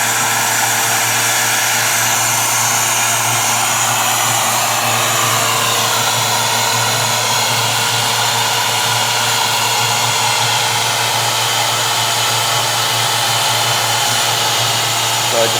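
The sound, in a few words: Miller 105 fabric welder sealer blowing hot air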